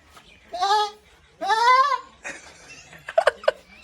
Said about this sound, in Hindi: देखो बकरी बोल रही है